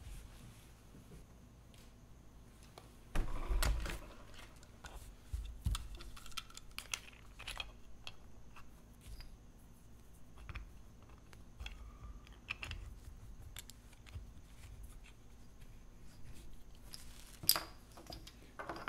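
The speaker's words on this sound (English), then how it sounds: "So I'm going to do the carving next." Tian Huang stone seal being carved while clamped, giving faint scratchy scraping and small clicks, with a couple of louder knocks and rasps standing out from a quiet room.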